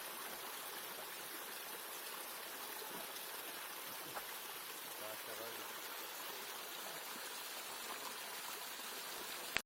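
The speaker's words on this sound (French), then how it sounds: "Nous y trouvons des sources d'eau qui sont de nos jours sacrées pour les Russes orthodoxes." Sacred water springs flowing at a site near Radonezh, Russia, as a steady, faint, continuous wash of running water with no break and no talking.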